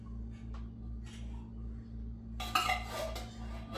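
A spoon scraping and clinking against a dish while green bean casserole ingredients are scooped out, with a few light taps and then a louder scraping burst near the end over a steady low hum.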